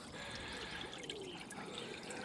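A small solar fountain in an allotment pond, a faint, steady trickle of falling water in quiet outdoor surroundings.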